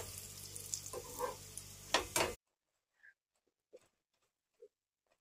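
A cauliflower paratha sizzles in a pan as it fries to golden brown, the crackle fairly loud for about two seconds, then it cuts to near silence broken by a few faint taps and clicks.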